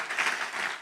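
A church congregation claps for the Lord during a sermon, a dense burst of steady applause from many hands filling the room, fairly close and continuous without any voices over it.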